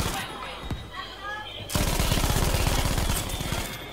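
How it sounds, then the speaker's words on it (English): A German MG42 machine gun fires in a World War II video game, first with a few single shots, then a long, loud, rapid continuous burst of gunfire that rattles on to the end. "Yeehoo, MG42."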